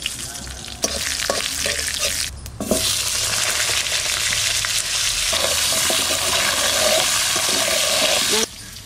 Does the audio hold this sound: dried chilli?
yes